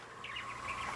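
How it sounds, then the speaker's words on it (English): Pet birds chirping indoors, a steady run of small high tweets and calls at moderate volume over faint room noise, with no talking. "Plus, you're upsetting my birds."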